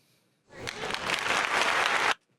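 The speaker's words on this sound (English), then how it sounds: "Round of applause." A short burst of applause rises from near silence, swells for about a second and a half of dense clapping, then stops abruptly.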